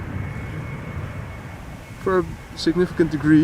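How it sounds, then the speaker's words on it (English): A KLM Embraer 175 at Amsterdam Schiphol Airport gives a steady, fairly distant jet engine roar, and a voice talks over it in the second half. "This is KLM flight 1788, Embraer 175"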